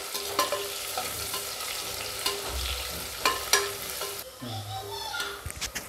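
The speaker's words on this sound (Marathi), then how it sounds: "आता आपला कांदा भाजून घेतलेला आहे" Onions deep-frying in oil as a biryani garnish crackle and sizzle steadily, broken by several sharp stirring clinks and scrapes, close and fairly loud, with no voice.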